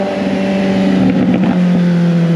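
Suzuki GSX 750 motorcycle with a stock exhaust, idling steadily with a low rumble, brief pops and crackles breaking through near the middle.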